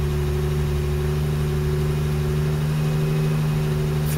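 A Jaguar E-type Series 2 engine with electronic ignition is held at high revs, a steady, dense drone with constant hum and no rise or fall, near and loud throughout with no voices.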